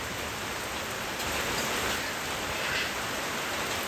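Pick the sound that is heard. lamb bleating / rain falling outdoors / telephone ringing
rain falling outdoors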